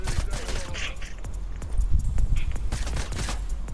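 Deadpool's pistols fire in rapid bursts of close, crackling gunshots over busy game action in a video game, with a voice talking faintly underneath.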